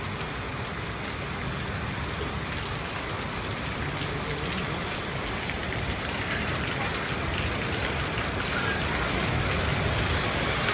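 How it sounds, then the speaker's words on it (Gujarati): Heavy monsoon rain pours down in a steady, dense hiss that fills the whole stretch, loud and close with no pauses and no voices on top. "બહુ વરસાદ આવે છે."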